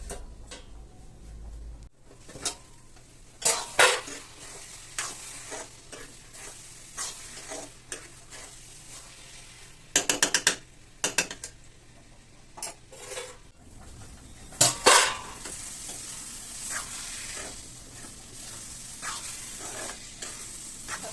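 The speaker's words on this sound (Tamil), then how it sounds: "நம்ம இதை எண்ணெயிலேயே சிம்மில் வச்சு வதக்க போகிறோம்" Dried prawn masala sautés in oil over low heat, a soft continuous sizzle broken by scattered, sharp scrapes and clinks of a spatula against the pan. Bursts of stirring cluster together, then trail off.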